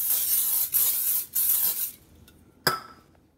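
A hissing cooking spray aerosol sprayed into a crockpot in a few bursts, followed by a single light clink of metal or glass, then near quiet.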